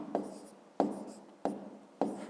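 A pen scratches on paper while someone writes out a fifth-grade maths answer, four short strokes in a row, each starting sharply and fading, quiet and close.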